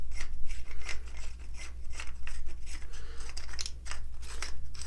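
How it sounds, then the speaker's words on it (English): A knife handle with a hidden compartment is unscrewed by hand, producing steady close rasping, scraping thread sounds that repeat in short strokes with no talking. "So I'm going to go ahead and unscrew this."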